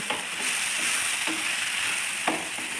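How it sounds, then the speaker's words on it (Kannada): Mushroom manchurian is stir-fried in a pan over a flame, giving a close, steady sizzle throughout, punctuated by a few soft scraping stirs and no talking. "ಫ್ಲೇಮಲ್ಲಿ ಇಟ್ಕೊಂಡೇ ನೀವು ಫ್ರೈ ಮಾಡಬೇಕು"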